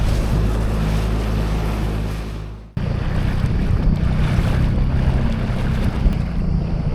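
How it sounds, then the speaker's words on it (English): A small dinghy motoring across Tomb Bay near Gocek, a steady loud rush of outboard engine drone, wind buffeting and splashing water, with a brief dip partway through before the noise resumes. "Quick dinghy ride to explore Tomb Bay."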